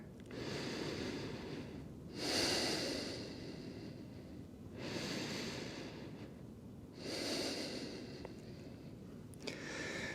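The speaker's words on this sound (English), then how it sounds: "take some slow and easy breaths here" Slow, easy breaths during a yoga pose with knees down and hips back, three or four long airy inhales and exhales rising and falling in a calm cycle, close and fairly soft with no talking.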